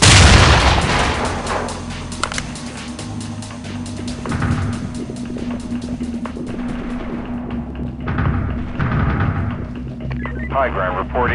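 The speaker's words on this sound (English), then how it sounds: "Shots are being fired at the perimeter from the neighboring laundromat." Gunfire in the tactical shooter SWAT 4, shots cracking at a building perimeter beside a neighboring laundromat, a burst of sharp reports at the start followed by scattered distant pops over a low rumbling game ambience, with radio-style voices talking throughout.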